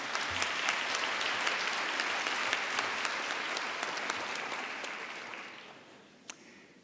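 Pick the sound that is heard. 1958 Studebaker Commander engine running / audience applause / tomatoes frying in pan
audience applause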